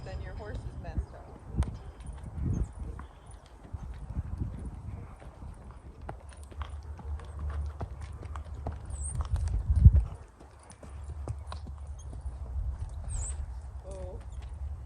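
Steady hoof clip-clop of a Tennessee Walking Horse walking on firm ground, with low rumbling movement and a brief bump near the end.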